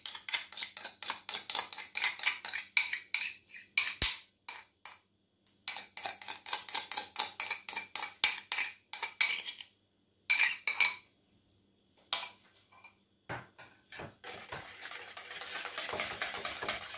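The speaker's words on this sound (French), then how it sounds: "Ensuite, je rajoute la crème fraîche." A spoon clinks and scrapes against a dish while crème fraîche is added and stirred in, in repeated bursts of close scraping separated by short pauses, with no talking.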